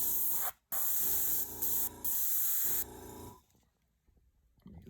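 An airbrush sprays white paint over a stencil onto a Corvette engine in sharp, close hissing bursts, one very brief pause then a few longer blasts, before the spray stops and only faint background noise remains.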